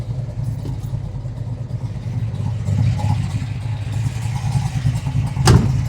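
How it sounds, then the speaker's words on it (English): The 396ci V8 engine of a 1969 Chevrolet Camaro idles with a deep, steady, slightly lumpy rumble, close by, ending with a brief sharp clack. "Engine just sounds awesome."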